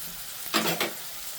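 Vegetables with turmeric, green onions and green chillies stir-fried on a high flame for chow mein, a constant hissing sizzle with two quick louder bursts as the pan is tossed or stirred, no talking.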